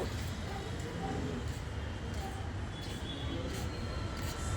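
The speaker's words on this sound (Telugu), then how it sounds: "పక్కన ట్రైన్ కూడా పోతుంది" Steady low rumble of a metro train running past near Moazzam Jahi Market, Hyderabad, continuous and fairly loud throughout, with faint traffic-like hiss on top.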